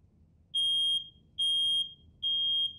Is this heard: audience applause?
no